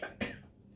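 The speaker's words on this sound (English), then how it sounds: "I still have this awful cough and it just won't go away." Coughing from a person with a lingering cough, two quick close hacks in succession, soft and alone without speech.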